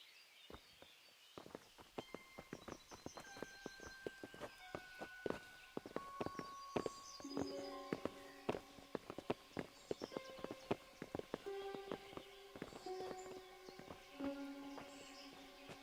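Horses' hooves clip-clop steadily on the ground in the medieval game Kingdom Come: Deliverance, a dense run of close hoofbeats with brief musical tones and faint bird calls over a quiet background and no talk.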